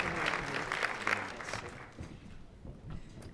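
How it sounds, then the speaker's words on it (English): An audience at a National Action Network gathering claps loudly together, a dense wash of applause that thins and fades after about two seconds, with a faint murmur beneath. "Y'all can clap."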